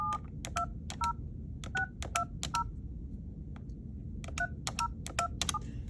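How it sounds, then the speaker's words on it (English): Two quick bursts of keypad dialing tones from an Avaya 9641G desk phone, about seven beeps each, separated by a short pause, over a low steady hum. "So now you can dial Nathan"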